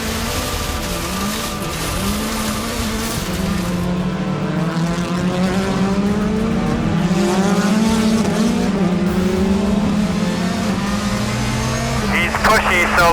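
Rallycross race cars, among them a blue Subaru, roar steadily with engine drone and rising revs over continuous crowd-like noise, with a brief high squeal near the end.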